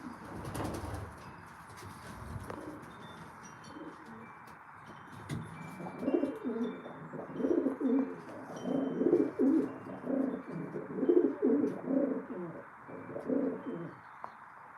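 Racing pigeons in a loft, birds entered for a California State show, coo in repeated soft rhythmic bursts that swell and overlap from midway on, with a little rustling before they settle.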